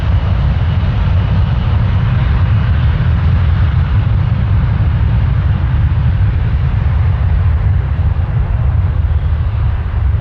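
An airliner departs from Toronto Pearson airport with a loud, continuous broadband jet engine roar that stays sustained and dense throughout, without any voices.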